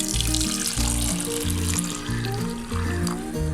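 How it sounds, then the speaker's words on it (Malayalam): Boiling water poured over tomatoes in a bowl, a steady close splashing pour heard under rhythmic background music, with no talking. "അതിലേക്ക് നല്ല തിളച്ച വെള്ളം ഒഴിച്ചു കൊടുക്കുക"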